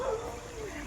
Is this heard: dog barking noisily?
yes